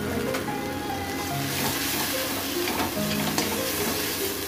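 Ground turmeric, Kashmiri chili powder, cumin powder and salt sizzle steadily in a hot pan for a stuffed pointed gourd and potato curry, with continuous frying hiss and occasional stirring scrapes, close and fairly loud.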